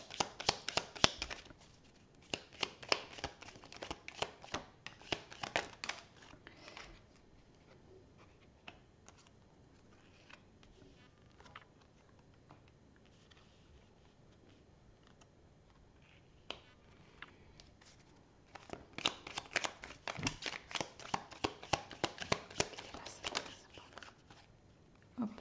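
Tarot cards being shuffled, with dense bursts of close, soft flicking and riffling at the start and again near the end, separated by a long quieter stretch with scattered light taps.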